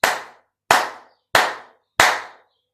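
Four sharp, evenly spaced slaps of a hand on the knee, each loud and crisp with a quick decay, in a steady beat.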